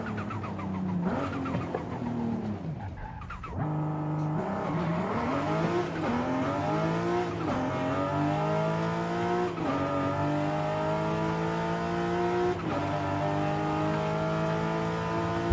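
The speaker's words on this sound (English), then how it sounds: "The turbo sounds cool." Turbocharged car engine in Forza Horizon 5, roughly 550 horsepower, revving and accelerating hard through several rising gear pulls, with a brief lift and drop near the start before climbing again, loud and continuous with no talking.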